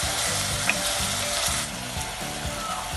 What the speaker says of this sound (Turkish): 2 adet küp küp doğramış olduğum havuçlarımı da içerisine ilave ettim ve soğanımla beraber onu da kavuruyorum.